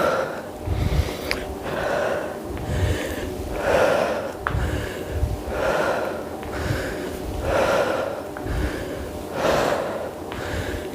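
Heavy rhythmic breathing during a muscle-strengthening workout, with slow alternating loud inhales and exhales repeating about every two seconds, close and breathy.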